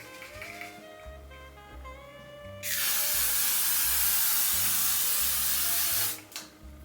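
After a short lead-in, makeup setting spray is misted onto a face in a long, loud, continuous hiss lasting about three seconds, then stops abruptly, with soft music underneath.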